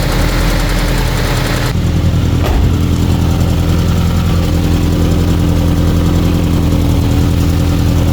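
A Mazda B2200 engine idles loudly and steadily up close, with a rough, ticking exhaust rasp from an exhaust leak running throughout and a single brief knock partway through.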